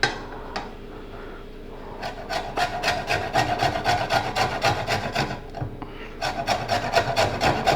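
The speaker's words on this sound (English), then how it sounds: "I'm going to add some lime zest." A lime being zested on a grater, rapid rhythmic rasping strokes in quick bursts with a brief pause midway, close and crisp.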